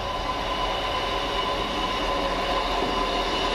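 A Northern Rail passenger train passes Cross Gates station, a steady, loud rumble of wheels on track holding throughout with faint squeal and no voices.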